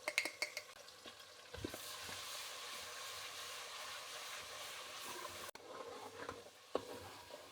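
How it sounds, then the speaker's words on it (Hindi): Garlic ginger paste sizzles and fries in hot oil with popped garam masala for chicken korma, a steady loud hiss with stirring scrapes and clatters near the start and a brief break midway. "लहसुन अदरक का पेस्ट डालेंगे।"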